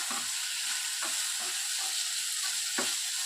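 Tomatoes frying on a low flame for coriander chutney, a steady close sizzle filling the whole stretch, broken by a few soft stirring scrapes of a spatula in the pan.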